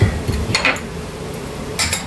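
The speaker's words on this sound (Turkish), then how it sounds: "şimdi ben bulaşıkları yerleştireceğim arkadaşlar." Dishes, pots and cutlery clinking and clattering as they are put away in a village home kitchen, a few bright clanks near the start and again at the end, close by with no talk.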